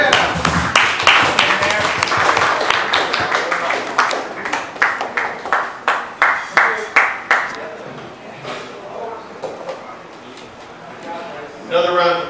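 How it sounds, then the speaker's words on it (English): Audience applause after a live acoustic cover song, with brisk clapping and a few distinct rhythmic claps that gradually thin out and fade. Voices are heard over the clapping near the end. "Another round of applause, ladies and gentlemen."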